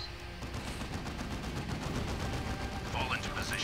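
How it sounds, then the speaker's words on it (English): Dense, continuous gunfire and explosions from the strategy video game Dawn of War 2, a steady loud battle roar with rapid overlapping shots and voices talking over it. "Shoot him! Shoot him with guns!"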